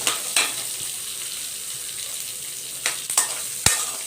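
Onion, tamarind and thoothuvalai sauté in a pan for chutney, giving a soft steady sizzle with a few sharp clinks and scrapes of a spoon stirring against the pan.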